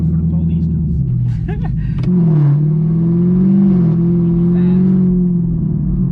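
Chevrolet Camaro ZL1 V8 revving hard while sliding through donuts, the engine note rising and holding loud and close, with voices talking over the start.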